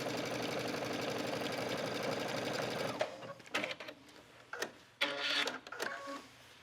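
A sewing machine top stitching a skirt hem with brightly colored thread runs steadily and loudly for about three seconds, then stops and starts in short, uneven bursts with soft handling noises between.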